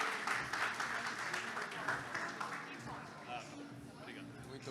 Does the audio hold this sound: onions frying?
no